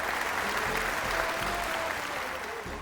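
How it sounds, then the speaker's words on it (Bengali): A studio audience claps loudly and steadily at a West Bengal Police singing contest semi-final, dense continuous applause that fades slightly near the end. "জোরে হাততালি হয়ে যাক প্লিজ"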